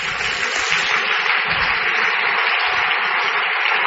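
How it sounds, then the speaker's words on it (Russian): A church congregation applauds in a steady, dense wash of clapping that continues evenly for several seconds without talk over it. "Дай Богу аплодисменты."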